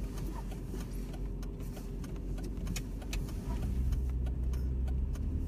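A car drives while its driver attempts a drift, giving a steady, loud low engine and road rumble that swells and deepens partway through, with no talk.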